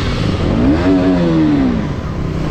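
A motorcycle engine revs loudly on a city ride through hilly Pithoragarh, its pitch climbing and falling once in a single close, full-throated sweep over steady engine noise.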